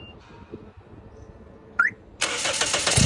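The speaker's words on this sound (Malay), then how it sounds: "kita akan start enjin." A car engine, jump-started from an impact wrench battery, cranks with a brief chirp, then catches and roars into a steady, loud idle.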